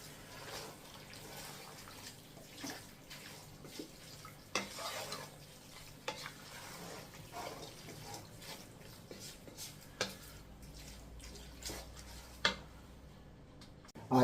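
Kerala style beef fry sizzling steadily in a pan on low flame, with a soft continuous fry hiss and repeated scraping stirs from a spoon, close but fairly quiet.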